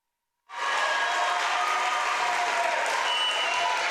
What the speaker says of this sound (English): Loud cheers from the home crowd here